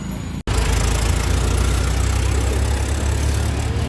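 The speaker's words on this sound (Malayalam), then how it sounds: "എവിടെ നോക്കിയാലും ഇതുപോലത്തെ ട്രാക്ടറുകൾ ഉണ്ട്" A tractor engine idles close by in a Tamil Nadu village, a loud, steady low chugging rumble after a brief cut, continuing without pause.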